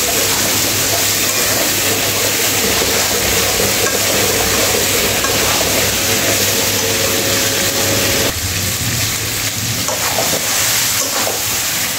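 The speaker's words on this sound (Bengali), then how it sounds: "মাংসগুলো আমি মশলার সঙ্গে খুব সুন্দর করে কষিয়ে নিয়েছি" Pieces of chicken sautéing with spices in a pan, a loud continuous sizzle with scraping stirring strokes running through it and no talking, the texture shifting slightly toward the end.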